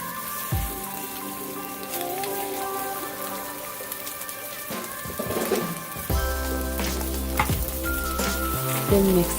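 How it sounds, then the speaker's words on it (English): Food sizzles and fries steadily in a hot pan while being cooked through on the other side before rice noodles go in, a continuous close crackle with occasional stirring clatter. "Flip and cooking on the other side."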